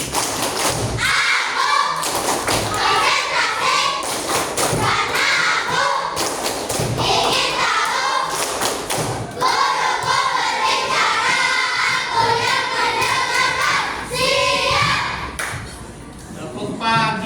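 Children in a classroom clap their hands together in rhythmic patterns, loud repeated claps in bursts and short sequences, while a teacher calls out chant cues between them.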